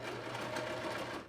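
A sewing machine stitching a cotton face mask, a close, steady motor whir with fast rhythmic needle chatter that runs unbroken through the short clip.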